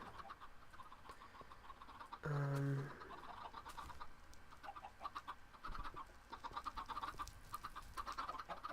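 Chickens in a Minecraft chicken farm cluck softly and intermittently, with one louder bright squawk early on, faint game ambience underneath.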